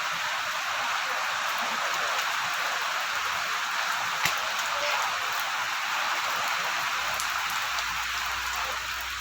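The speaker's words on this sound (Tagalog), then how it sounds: "Lakas na yung ulan." Heavy rain pours steadily onto a wet floor, a dense, continuous hiss with close drops pattering throughout and no voices over it.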